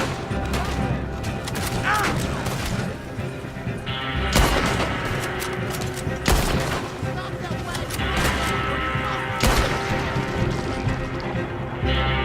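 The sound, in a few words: gunfire in the video game Red Dead Redemption 2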